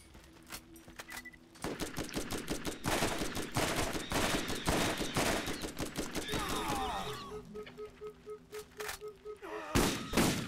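Gunfire in the video game Borderlands: long bursts of rapid, loud shots rattle almost continuously, broken by short pauses and mixed with electronic effects and tones.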